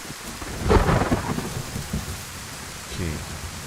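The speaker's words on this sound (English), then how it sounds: "I'm so lucky it's raining." Rain and thunder in the DayZ video game on the Livonia map: steady rainfall patters throughout while a close, loud thunderclap rumbles early on, followed by softer rolling thunder.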